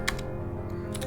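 Typing a command on a computer keyboard, a couple of quick close key taps at the start and end over a steady low background hum, no voices.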